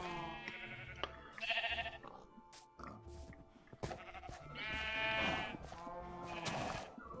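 Blocky sheep from the Minecraft video game bleat repeatedly on an automatic sheep farm, several overlapping baas at moderate volume alongside clicks and thuds of game actions.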